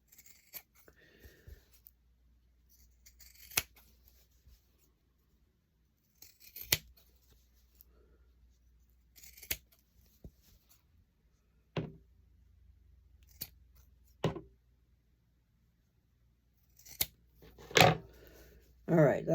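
Scissors snipping through fabric for sewn coasters, heard as sparse, sharp single cuts spaced several seconds apart, close and crisp, with quieter handling noise between and a couple of quick snips near the end.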